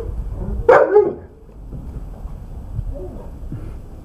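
A neighbour's dog lets out one or two sharp barks early on, moderately near, followed by wind rumble and faint background noise.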